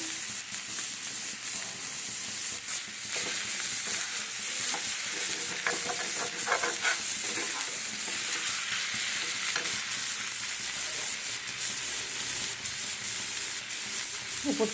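Green chilies hit a hot frying pan for paneer bharta, giving a loud continuous sizzle and hiss with stirring scrapes throughout, no talking.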